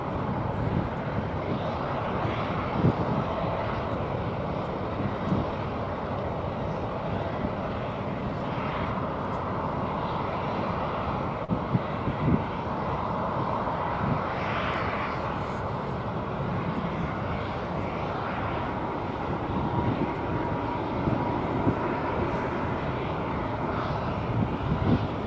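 A colorful Viva Aerobus airliner departs DFW Airport bound for Mexico City, its jet engines giving a steady, broad roar that holds at an even loudness throughout, with wind rushing across the microphone.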